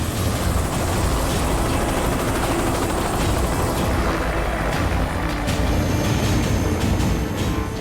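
A helicopter roars loudly and steadily throughout near the North Pole, its rotor thudding in a dense, constant wash of noise.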